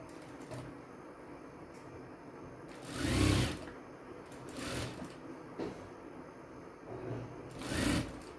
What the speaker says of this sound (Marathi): ही कटोरी आपल्याला इथं खालच्या बाजूला हे दोन्ही टोकं जोडून घ्यायचे आणि हे शिवायचे.